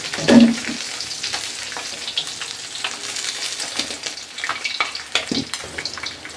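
Small puti fish frying in oil in a pan give a continuous, close hiss and crackle, with occasional knocks and scrapes of a utensil against the pan, steady and fairly loud, no voices.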